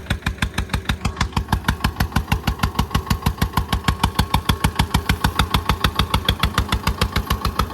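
A rice harvesting machine's engine runs hard at full throttle, giving a loud, steady, rapid pulsing chug with a regular mechanical beat, close and continuous with no voices.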